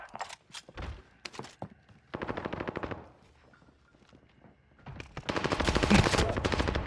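Automatic gunfire in the video game Warzone: short bursts and single shots up close, then sustained rapid machine-gun volleys in two long stretches, the last loud and dense.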